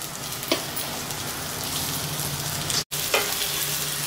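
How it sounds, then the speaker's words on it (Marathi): Seedless dates sizzle and fry steadily in hot ghee, a close continuous crackle with a few soft stirring knocks, no voices over it. "हा छान असा तळून घ्यायचा आहे तुपावरती."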